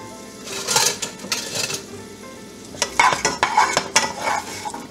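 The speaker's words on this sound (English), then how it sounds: "So here goes that andouille. Throw it in there and kind of get it stirred up." Andouille sausage sizzles in olive oil in a sauté pan while a utensil stirs it, giving close, irregular scraping bursts over a steady frying hiss.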